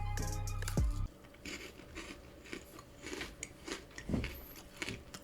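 Crunchy Cadbury chocolates are bitten and chewed close up, with a loud snap at the start followed by a run of soft, irregular crunching and mastication sounds and no talking.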